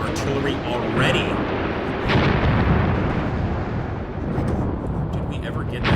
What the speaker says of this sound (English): Actually, the enemy is targeting us with mortars and artillery already.